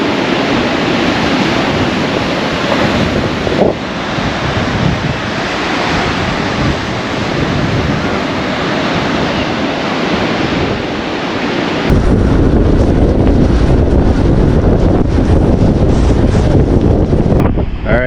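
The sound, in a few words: wind blowing at the beach with waves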